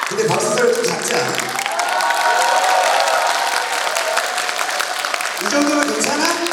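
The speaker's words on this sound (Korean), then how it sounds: "근데 박수 소리 좀 작지 않아?" Audience at a kindergarten recital claps and cheers for several seconds, a moderately loud, crowded burst of applause with adult voices talking around its start and end.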